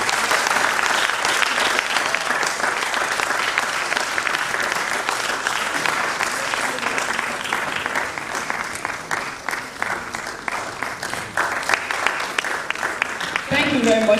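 Sustained audience applause at a biomedical research conference: a dense, even wash of clapping from a large crowd that continues without a break, with a few louder individual claps near the end.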